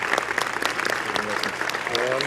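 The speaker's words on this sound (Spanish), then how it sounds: "merece que le demos un aplauso de pie" Audience giving a standing ovation after a question-and-answer session, a brief burst of dense clapping with a voice speaking over it.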